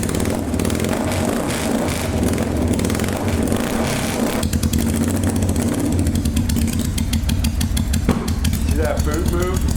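A custom chopper motorcycle engine runs loud and steady throughout with a low throbbing idle, its intermittent throttle fault audible as faint unevenness, while voices talk over it.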